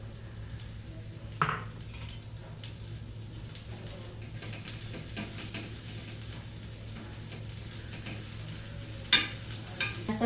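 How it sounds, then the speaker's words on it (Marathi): Onion being fried and stirred in a pan for baingan bharta, a soft steady sizzle underneath with occasional scraping knocks of a utensil against the pan, a sharper clank near the start and another toward the end. "तर कांदा परतवून घेऊया आपण"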